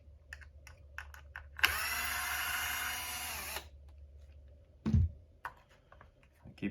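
A power driver whirs for about two seconds while pulling screws from the shock tower of a Traxxas RC car chassis, with light clicks and clatters of small parts before and after.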